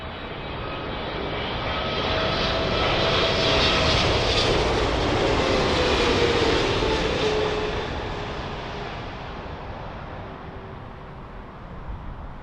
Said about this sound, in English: It is the Egypt Air Triple.